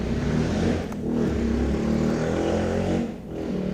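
A motorcycle passes by outdoors, its engine a loud, broad rumble that swells and dips over a few seconds, close to the listener, with no talking over it.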